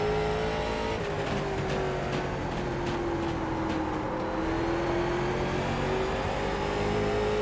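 Late model race car in the iRacing sim at Lanier National Speedway, engine note holding a loud sustained whine that rises and dips slightly as the throttle is eased on, constant and close with no talk.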